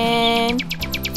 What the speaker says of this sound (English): nightingale, nightingale.